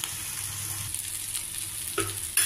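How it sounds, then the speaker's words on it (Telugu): Stuffed ivy gourd pieces frying in a pan, a soft steady sizzle heard close with a couple of sharp stirring clinks near the end, no speech. "దొండకాయలు బాగా ఫ్రై అయ్యాయి, మనకి కూర రెడీ అయింది"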